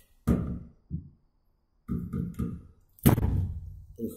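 A builder-installed apartment window is shut with a series of dull knocks and thuds, coming in separate bursts with short gaps between them, close and fairly quiet.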